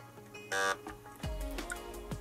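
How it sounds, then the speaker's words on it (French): Battery connected to an electronic speed controller, which sounds its motor beep: a short tonal chirp followed by a few fainter clicks and tones, quiet and close, with no speech. "J'ai le bip moteur."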